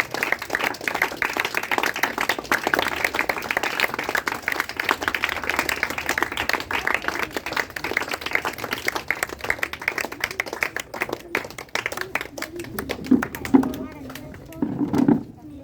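Sustained audience applause at a birthday celebration honouring a school founder and his father: a dense, steady clatter of many hands that fades near the end as voices come through.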